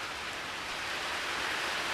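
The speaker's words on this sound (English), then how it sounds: "She's starting to rain a little." Light rain falling outdoors among fruit trees, a steady soft patter and hiss that holds even and unbroken from start to finish with no voices.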